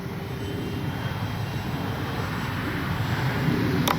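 A Kavan Bristell B23 RC model airplane's engine drones steadily at a distance, a constant buzzing hum that slowly grows a bit louder as it passes.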